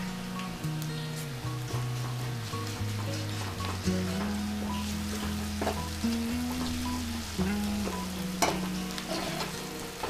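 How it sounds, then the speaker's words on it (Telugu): Ginger garlic paste frying in a pan while cooking a boiled potato fry, a dense continuous sizzle and crackle throughout, close and steady, with faint stirring and a low background hum. "పచ్చి వాసన పోయే వరకు ఫ్రై చేసుకోవాలండి"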